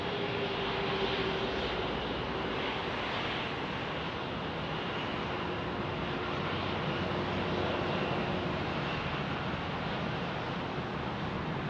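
An inbound Airbus airliner near Phoenix Sky Harbor Airport gives a continuous broad jet roar with a faint whining tone, a steady moderate rush that holds level throughout with no voices.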